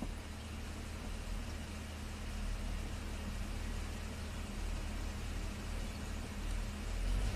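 A GM truck engine, one with an occasional cylinder 6 misfire, idles with a steady low rumble and hiss, continuous and fairly close without voices.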